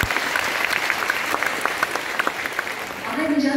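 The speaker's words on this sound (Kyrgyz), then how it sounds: "Ушуга дайым жол кол чабуулар болсун" A crowd applauds at a community event, brisk continuous clapping filling the whole moment, swelling slightly louder near the end.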